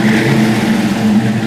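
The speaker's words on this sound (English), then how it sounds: "let's start up and see how it sounds." A 1966 Shelby GT350 Hertz Mustang V8 fitted with hot rod mufflers runs in a steady, loud, close rumble with a deep, even exhaust tone and no voices.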